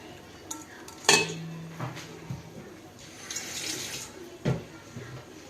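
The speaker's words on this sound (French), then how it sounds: "Là, on va mélanger pour que ça fonde." Yeast and vanilla sugar are stirred into warm water in a bowl for zlabiya dough, with spoon clinks against the bowl, light water sloshing and a few sharp knocks.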